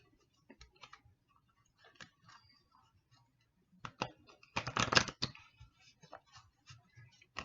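Tarot cards are handled and shuffled on a table, with sparse light taps and flicks followed by a louder burst of riffling, then scattered soft clicks, heard up close and quiet.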